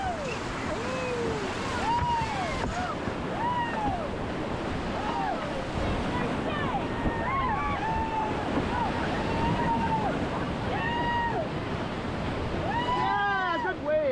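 Churning river rapids on the Rogue River while rafting, a steady loud rush of splashing water and wind across the whole stretch, with voices calling out over it.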